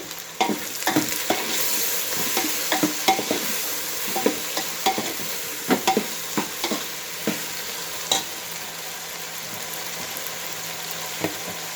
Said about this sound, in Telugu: ఇప్పుడు టమాటా ముక్కలు, పచ్చిమిరకాయ ముక్కలు, వంకాయ ముక్కలు వేసేస్తున్నా